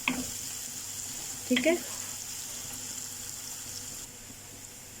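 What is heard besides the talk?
onions frying and sautéing in a pan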